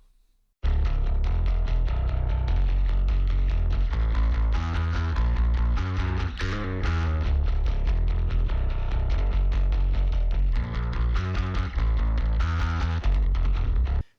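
A loud, dense bass guitar track from a heavy rock song mix, blending deep sub tones with an aggressive, gritty mid-range, playing continuously for the full stretch with no talk over it.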